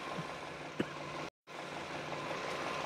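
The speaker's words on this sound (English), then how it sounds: "I have the engine running now. It's idling in park." A 2014 Chevrolet Sonic with the 1.8 engine idles in park during a transmission service, giving a quiet, steady low rumble with a brief dropout to silence midway.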